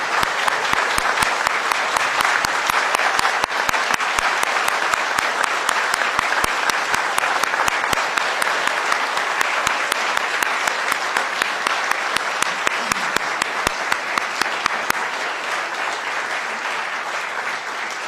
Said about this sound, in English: if you please rise, clap your hands, and thank our new members